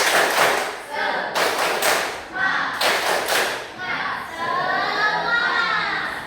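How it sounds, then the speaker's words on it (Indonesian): Schoolchildren in a junior high classroom beat out a rhythmic chant-and-clap cheer, bursts of quick clapping and thumps in several loud groups, with children's voices and shouting between them. "coba anak-anak semua kita tepuk semangat"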